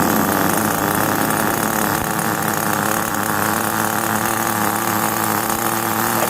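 Small RC nitro car engine running during break-in of a newly installed engine, a constant loud, buzzy idle with a rattling vibration, close up and unbroken throughout.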